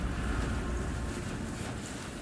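Freezing wind gusts blow steadily across the snowy land of Midgard in God of War Ragnarök, a dense, roaring rush of air with no voices.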